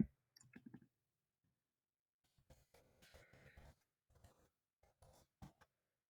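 Computer mouse buttons click in short bursts and scattered single taps, faint and near, separated by stretches of silence.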